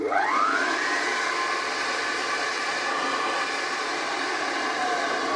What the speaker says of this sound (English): I've got it connected up to a temporary lead so I can turn it on and off